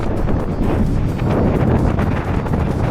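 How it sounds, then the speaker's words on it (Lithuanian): Heavy wind roars loudly over the microphone while riding gravel bicycles along paved roads, a continuous buffeting rush with no voices. "Vėjas!"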